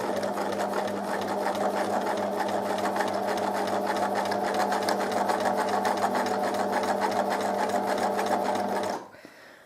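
Sewing machine stitching free-motion machine embroidery, a fast, even needle chatter close up and continuous for several seconds before stopping abruptly.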